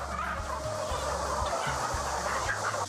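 Around three thousand chickens raised on a farm, clucking together in a dense, continuous chorus with low murmuring and occasional sharper calls, close and steady.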